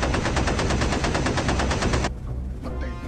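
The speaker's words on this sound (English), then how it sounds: "Gunners Schmidtins and Hayakawa have him in his sights and fire away." B-17 bomber gunners open up with machine guns in a rapid, loud, evenly paced burst of shots lasting about two seconds before it cuts off abruptly.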